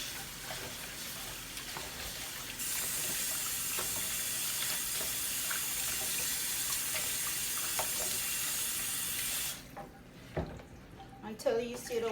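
Raw chicken for satay is rinsed again under a running kitchen tap, with steady splashing into the sink that grows louder partway through, then stops, leaving handling clatter and a few knocks.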